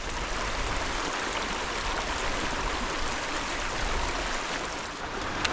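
River rapids rush over rocks in a steady, dense roar of churning water that stays constant throughout, close and loud with no voices.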